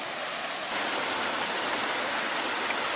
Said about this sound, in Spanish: dentro de las piedras cae la cascada